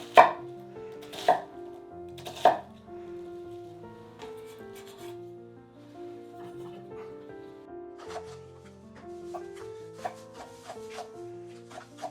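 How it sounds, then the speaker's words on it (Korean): A knife finely minces vegetables such as onion on a cutting board, with a few loud, sharp chops at the start, then lighter, quicker taps over soft background music. "이렇게 민치로 잘 다져줍니다"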